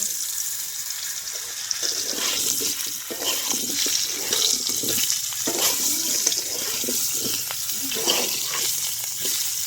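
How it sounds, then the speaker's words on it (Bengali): Potatoes fry in hot refined oil in a wok for tehari, a steady close sizzle with bursts of crackle and stirring throughout. "এবার এই কড়াইয়ের মধ্যে আমি আলুটা ভালো করে ভেজে নেব।"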